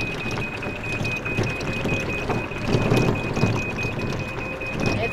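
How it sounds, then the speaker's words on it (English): Storm with steady rain pattering on surfaces and low rumbling thunder, heard outdoors in a forest setting as a continuous wash of noise with a faint high tone throughout and no speech. "Let's show the storm real quick."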